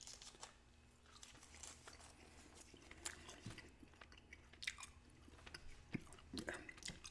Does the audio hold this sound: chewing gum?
yes